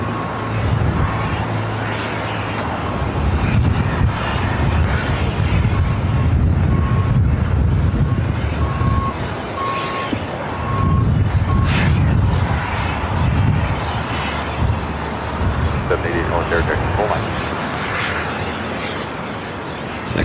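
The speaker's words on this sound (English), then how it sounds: "Cathay Pacific making their right-hand turn onto Taxiway Lima will now head to 24 left." A Cathay Pacific airliner taxis at LAX, its jet engines whining and rumbling steadily at a distance with some wind noise across the microphone, while a voice talks over it.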